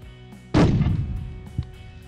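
A single loud rifle shot from a 6mm Creedmoor with no muzzle brake, fired at long range outdoors, cracks sharply and then leaves a rolling boom that fades, with a faint later thump.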